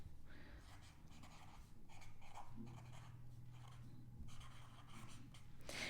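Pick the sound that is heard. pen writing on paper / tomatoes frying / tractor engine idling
pen writing on paper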